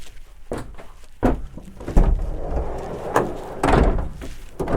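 Side door of a Mercedes-Benz Vito panel van slid and shut, a series of heavy metallic thunks and rolling scrapes close by, with one solid slam near the end.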